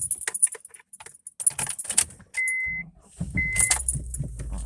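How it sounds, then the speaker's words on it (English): Keys jangle in short bursts near the listener, followed by a car door opening and closing as someone gets into the car, with no talk. "alright, let's get in the car and take her for a spin."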